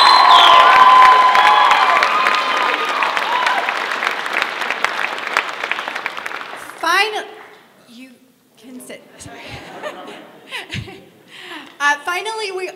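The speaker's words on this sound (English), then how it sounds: "Let's please give them another huge round of applause." Audience applause and cheering at a school drama closing night, a loud dense wash of clapping for about seven seconds, then fading into scattered claps, whoops and laughter from the crowd.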